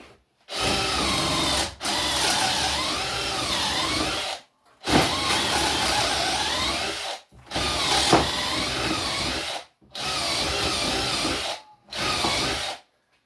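A cordless drill reams holes in wood for a shaving horse in a series of bursts, each running a second or two with a wavering whine, separated by short silent pauses.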